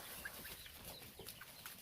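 Rooster clucking on a farm among ducks, with soft, scattered fowl sounds over a steady outdoor background hiss; no talking.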